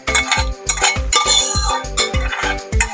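Sautéed pepper and red onion scraped into a pot of cooking beans for Haitian rice and beans, with a steady run of close metal clinks and scrapes of a spoon against the pot, repeated in a quick rhythm.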